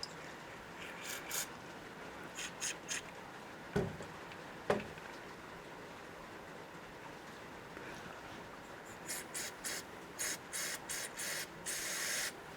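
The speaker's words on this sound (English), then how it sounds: "We'll give it a bit of a spray." Short hissing bursts of an aerosol spray on an engine part of a Suzuki LT50, several in a row, with a couple of sharp clicks and a longer hiss near the end, no talking.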